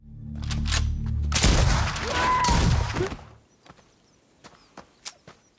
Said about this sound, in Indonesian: langsung menembak beberapa penyusup yang sempat bersembunyi di rumahnya itu